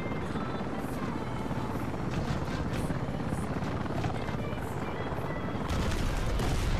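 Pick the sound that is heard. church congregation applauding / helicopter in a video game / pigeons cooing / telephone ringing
helicopter in a video game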